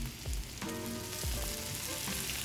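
Sofritto dropped into a hot pan after sausages, a close, constant frying sizzle with a few low thuds and scrapes as it settles.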